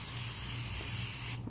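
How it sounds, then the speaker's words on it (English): A tanning mister sprays self-tanner onto skin in a steady, close hiss that runs unbroken for over a second before cutting off abruptly, with no talking. "Just spray it evenly and let it get on your skin."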